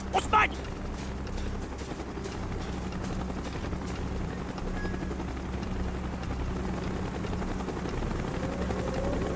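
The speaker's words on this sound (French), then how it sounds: "Hélico, on approche !" Helicopter rotor drone from the Call of Duty Black Ops video game, a steady low throbbing hum that holds on continuously, with a brief sharp sound near the start and game voices talking over it.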